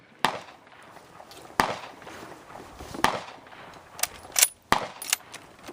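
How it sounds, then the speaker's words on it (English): Russian model 1940 Mosin Nagant rifle fired at an outdoor range, several sharp separate shots spaced a second or more apart, mid-distance and loud over faint background noise. "it's a Mosin Nagant, Russian model"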